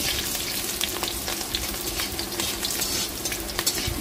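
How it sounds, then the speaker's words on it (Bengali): Steady, dense sizzling of chopped onions frying in hot oil until browned, close and continuous, with faint crackles scattered throughout and no voices. "পেঁয়াজ কুচি দিয়ে আমি নেড়ে চেড়ে লাল লাল করে ভেজে নেব"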